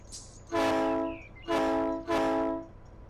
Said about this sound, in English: that train going by on the main line